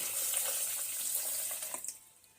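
Milk, a cup and a half, pours steadily into a container for a Ramadan sobia drink, a continuous close liquid rush that thins out near the end.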